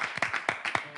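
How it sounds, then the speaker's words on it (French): An audience claps in scattered, uneven bursts for about a second, a brief patter of applause heard fairly close. "Applaudissez votre frère."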